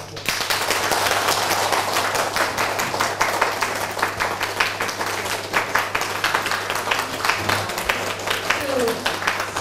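An audience at a Nanjing University lecture applauds warmly to thank a Rinpoche, producing dense, steady clapping that fills the hall for the whole stretch without letting up.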